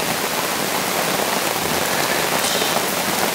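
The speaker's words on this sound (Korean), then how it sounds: "오랜만에 하는 우중 캠핑인데 시원하게 비 내리고" Steady autumn rain pattering on a tent or tarp while camping in the forest, a dense, even hiss of drops close by with no voices.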